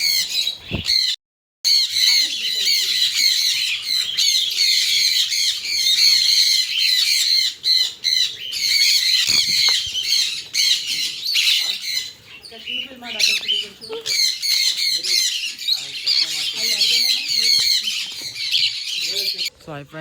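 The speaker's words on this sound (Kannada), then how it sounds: "ಪ್ಯಾರೆಟ್ಸ್ ಎಲ್ಲ ಕಲ್ಲರ್ ಕಲರ್ ಪ್ಯಾರೆಟ್ಸು" Parrots squawk loudly and repeatedly, a dense harsh chorus of shrieks and calls that fills the whole stretch, with brief quieter gaps.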